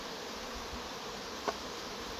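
Honey bees from a very strong hive with rotten wooden boxes swarm during a transfer to a new hive, making a dense, steady buzzing drone that fills the air close by, with one brief louder pass.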